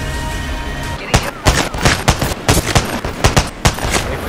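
Kraber sniper rifle shots ring out in the video game Apex Legends, about a dozen sharp, loud blasts in quick irregular succession over a steady rumbling game backdrop.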